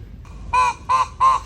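A peacock at Siloso Beach on Sentosa gives three loud, nasal, honking calls in quick succession, each about a fifth of a second long, close by over quiet background.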